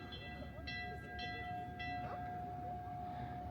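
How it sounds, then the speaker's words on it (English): A distant train rumbles far below a desert overlook near Calico Ghost Town in Southern California, sounding three short faint horn blasts over a soft steady drone while people talk nearby. "The train down there in the background."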